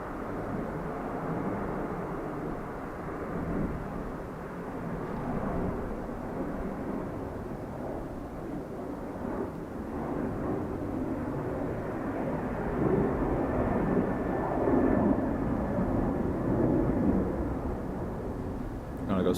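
A Qatar Airways aircraft on approach to runway 28 left at Dublin Airport in crosswind, heard as a loud, steady, low jet roar that swells slightly toward the end, continuous and heavy throughout.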